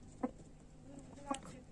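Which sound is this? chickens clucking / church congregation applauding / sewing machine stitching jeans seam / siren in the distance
chickens clucking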